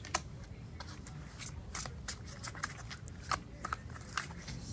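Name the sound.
shuffling and drawing tarot cards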